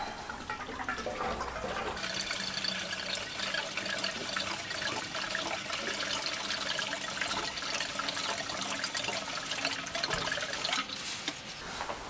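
Fuel pours from a can into the tank of a Triumph Street Triple motorcycle, a steady gurgling liquid rush lasting throughout, close and continuous with no talking.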